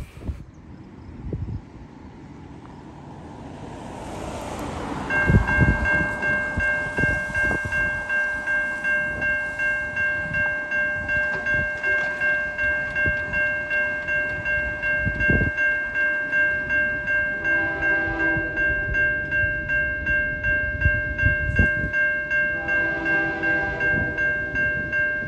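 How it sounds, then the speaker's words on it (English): A long freight train of 128 cars rumbles past steadily with rhythmic clacking of wheels over rail joints, a sustained horn-like tone ringing above it throughout. "And this train has 128 freight cars on it."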